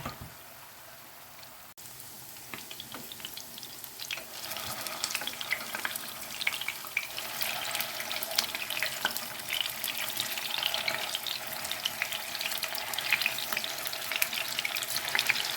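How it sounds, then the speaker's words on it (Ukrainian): Meat patties sizzle and crackle steadily in a hot pan, a constant hiss with scattered pops that grows slightly louder as it goes on. "І хай смажиться."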